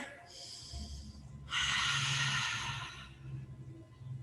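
Breath drawn during a yoga flow, an audible inhale then a louder, longer exhale lasting about a second and a half, breathy and close with a soft hum underneath.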